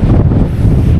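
Strong wind buffets the microphone on a hilltop, a dense low roar that stays loud and constant throughout the brief moment.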